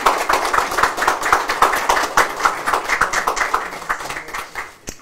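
Audience at a press conference clapping in welcome, brisk and dense applause from a modest crowd that runs for about five seconds before thinning out, close and fairly loud, with no talking.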